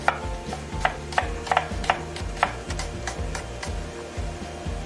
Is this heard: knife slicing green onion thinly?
yes